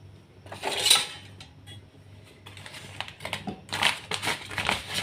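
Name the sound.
wok being handled for cooking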